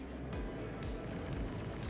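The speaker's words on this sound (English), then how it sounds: "The explosion was not very impressive, to be quite honest with you." A Tumbril Storm tank blows up in a video game: a dense, rumbling blast with several heavy booms rolling over roughly two seconds, loud and continuous with no talking.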